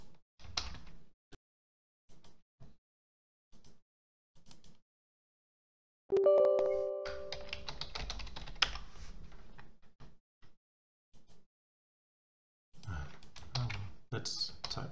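Typing on a computer keyboard comes in short, faint bursts of clicks separated by silence, with a louder stretch of mechanical sound in the middle.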